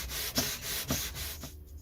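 Lengthwise sanding of the balsa wing ribs on a Mercury Tiger Moth model, a close, soft rubbing rasp in several short back-and-forth strokes with a brief quiet pause near the end.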